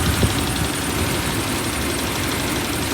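Engine of a 1967 Imperial Le Baron idling steadily after a new balancer and pulley were installed, a continuous low rumble, close and fairly loud with no talk.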